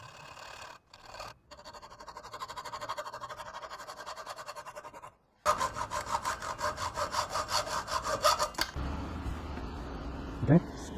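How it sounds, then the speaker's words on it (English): A hand saw cuts through a wooden spacer for glue-up clamps, with steady back-and-forth rasping strokes, a brief pause, then faster rhythmic strokes close by. "Now I'm going to cut the spacer."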